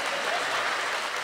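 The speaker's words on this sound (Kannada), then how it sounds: "ಪಡೀರಿ ಚಪ್ಪಾಳೆ" An audience claps steadily and densely for the whole short stretch during a Kannada stand-up comedy show, with no voice heard over it.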